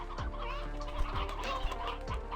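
Chickens in the video game Slime Rancher 2 cluck in short repeated bursts, several birds overlapping, close and moderately quiet.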